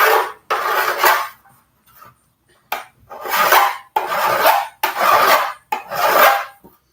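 A hand file rasps across a workpiece while a shield is being built, giving six loud, close strokes with short pauses between them.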